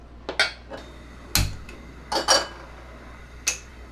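Several sharp metallic clinks and knocks of cookware, scattered and irregular, with one heavier clunk like a pan being set down on a stove.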